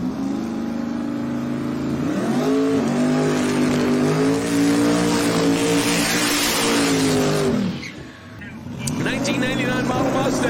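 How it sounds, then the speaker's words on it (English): A 1999 Ford Mustang drag car holding its engine on boost at the staging line of a drag race, a loud sustained rev that rises, holds, then cuts off sharply before picking up again, with an announcer talking over it. "'99 model Mustang. Alex getting it up on boost and gets it bumped in."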